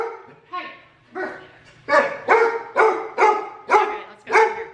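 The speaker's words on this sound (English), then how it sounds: "They said if your dog keeps barking, we ain't sending him no more gifts." A dog barks repeatedly indoors, several loud close barks arriving in a steady rhythm, the early ones softer and whimpering before they grow into full, evenly spaced barks.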